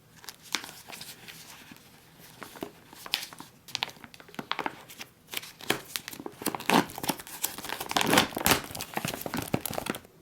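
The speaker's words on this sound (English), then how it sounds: "this is actually going to be a pretty good test of the peelable seal" Plastic wrapping crinkles and tears as a sealed MRE pouch is peeled open by hand, close and fairly quiet, with irregular bursts of crackling that grow louder toward the end.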